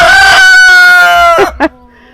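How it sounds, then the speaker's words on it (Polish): A loud, close rooster crow with a long drawn-out call, followed by a couple of short clucks and a faint distant crow from a second rooster answering across a village. "bo tam drugi kogut z nim rozmawia"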